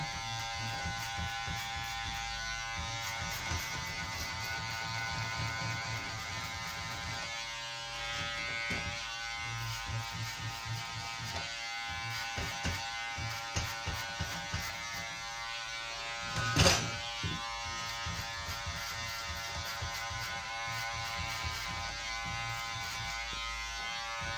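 Electric hair clippers with a number 1 guard, 3 millimetre, cutting a man's hair in a barbershop, a steady close buzz with irregular bumps and one brief louder clack partway through.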